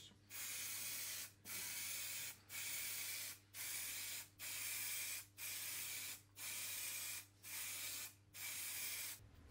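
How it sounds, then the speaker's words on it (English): Lacquer sprays onto a wooden Japanese lantern in bursts, nine evenly spaced hissing passes of about a second each separated by short pauses, close and steady, with a low hum underneath. "So having sprayed and lacquered those"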